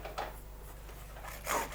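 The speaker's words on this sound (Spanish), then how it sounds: "Cuando los cuernos ya están cortados a su medida, hay que pulirlos." Sandpaper rubbing over a cut horn being smoothed for a handmade Basque alboka, a soft dry rasp with a brief stroke early on and a louder scrape near the end, quiet and close with no voices.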